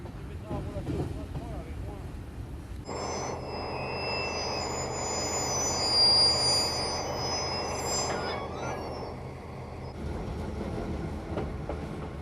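Pair of SNCF BB 67400 diesel locomotives at the head of a passenger train at Lyon-Guillotière, a loud rumbling engine drone with high metallic whines and squeals rising mid-clip, then easing, while a narrator speaks over it.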